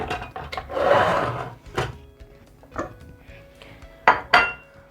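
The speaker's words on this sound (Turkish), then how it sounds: "öncelikle bir çatal yardımıyla hamurumu sunum tabağıma almak istiyorum" A fork scrapes and clinks against a plate while lifting a waffle onto a serving dish, with a few sharp ceramic taps and soft handling noises close by.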